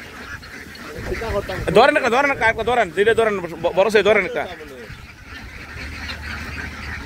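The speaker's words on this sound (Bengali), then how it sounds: "প্রচুর হাঁস, প্রচুর।" Native ducks quack and honk in a noisy flock at a duck farm, a loud burst of overlapping calls in the middle that fades afterward, while someone talks over them.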